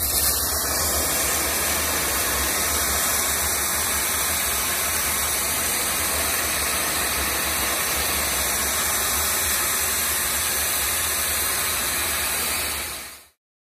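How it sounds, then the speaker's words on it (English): A Doff steam cleaner cleaning a patio gives a loud, steady broadband hiss and engine drone that holds unbroken for the whole stretch, then cuts off abruptly at the end. "we're going to use our Doff steam cleaner to get rid of all the black spot"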